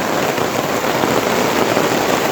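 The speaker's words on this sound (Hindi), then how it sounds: "बारिश शुरू हो गई अब।" Rain beginning to fall during a mountain trek on the Shrikhand Mahadev pilgrimage trail, a steady dense hiss of drops close by that holds at an even loudness throughout, with no voices.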